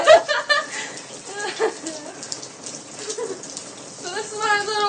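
Rain falls steadily outdoors beside a house with a three-legged dog nearby, a constant patter of drops running throughout beneath a voice talking close to the microphone.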